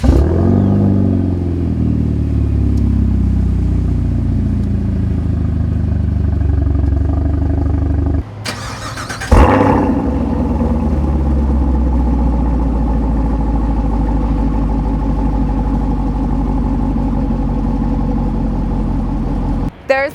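Two 2018 Chevrolet Camaros, a 6.2 SS V8 and a 2.3 liter turbo, both fitted with Borla axle-back exhausts, rev loudly and continuously up close, with a brief break and a sharp blip midway.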